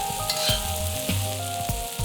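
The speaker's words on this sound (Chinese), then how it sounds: "再加上丝瓜翻炒" Luffa tossed with green soybeans in a hot oiled wok over high flame, a steady sizzle broken by several scraping stirs of the spatula, close and moderately loud, no voices.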